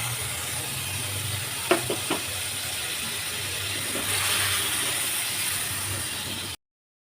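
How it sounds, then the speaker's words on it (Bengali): Mustard pabda fish curry gravy boils in a pan with a steady close bubbling and sizzling hiss, a few light utensil taps early on, and the sound then stops abruptly. "দেখো, আমার ঝোলটা ফুটে গেছে।"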